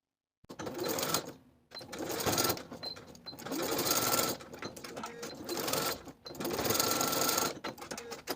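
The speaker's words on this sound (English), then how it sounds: "we're going to sew those short ends with a 3/8 inch seam allowance" Sewing machine stitching the short ends of fabric dress cuffs, close and clear, running in several rapid whirring bursts separated by short pauses.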